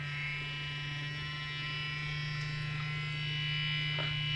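An electric facial cleansing brush runs steadily at its lowest speed against a wet face with cleansing gel, giving a close, constant buzzing hum with no pauses throughout.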